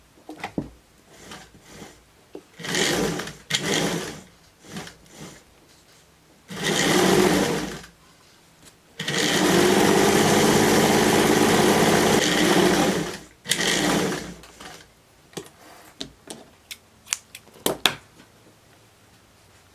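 A sewing machine runs a straight seam on a fabric slipper boot in several bursts, two long runs of fast, even stitching broken by short starts, pauses and small clicks of handling.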